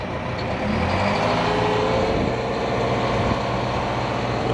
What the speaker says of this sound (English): The truck coming now.